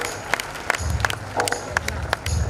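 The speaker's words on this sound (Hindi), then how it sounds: "ताली बजा दीजिए" Audience applause at a Jain religious ceremony, scattered hand claps in uneven bursts from a modest crowd, fairly close, with some low rumbling in the room.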